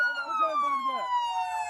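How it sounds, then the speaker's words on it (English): Police car sirens in the video game OnlyCops, a loud sustained electronic wail sliding steadily downward in pitch, with brief low voice-like sounds underneath at the start. "Kill your sirens."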